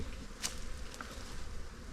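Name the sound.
African bees buzzing in hive at pool pump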